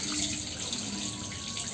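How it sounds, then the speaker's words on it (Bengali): Water runs steadily from a tap as a freshly picked mango is rinsed, a brief, even splashing rush. "বন্ধুরা, এখন আমটা ধুবো।"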